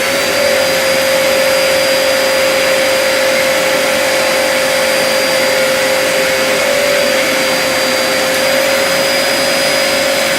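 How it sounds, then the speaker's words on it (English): A vacuum cleaner runs steadily and loudly throughout as a load on a 4000 W 48 V DIY inverter, with a constant motor whine and broadband airflow roar and no talking. "and a vacuum cleaner"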